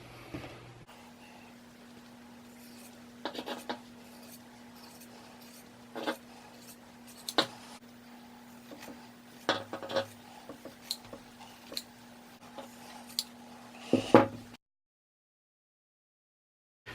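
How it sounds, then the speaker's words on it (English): Scissors cut through fabric material in faint, scattered snips and clicks, spaced irregularly over a steady low hum in a quiet room, ending in silence. "I'm going to go ahead and cut this out."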